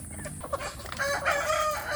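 A free-range village rooster crows nearby among clucking chickens, the drawn-out call rising clearly over a busy farmyard background.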